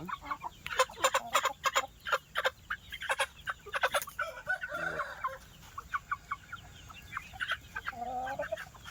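Breeder chickens and a young rooster cluck, chatter and gobble-like call in rapid bursts, close by and fairly loud, with a continuous flock din and no talk.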